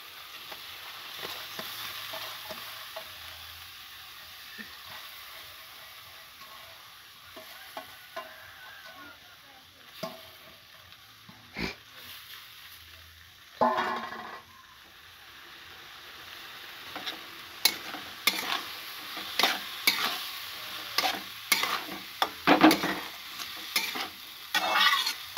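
Soaked matki dal fries in a hot pan with onion and tomato while a spoon stirs it. Soft sizzling runs underneath, and scraping stirs and clinks grow more frequent and louder toward the end.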